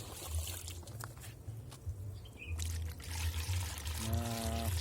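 Clean water is poured into a container while plant disease prevention for chili plants is being shown, a steady splashing trickle heard up close with faint bubbling toward the end.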